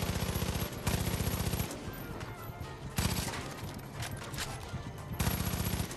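Gunfire in the video game Far Cry 5: loud bursts of rapid automatic shots in several volleys, with dense action noise between them and no talk.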